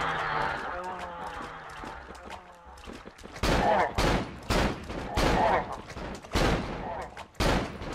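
Gunfire in the horror video game Cry of Fear: after a quieter stretch of faint game sounds, loud shots ring out in several sharp bursts close together.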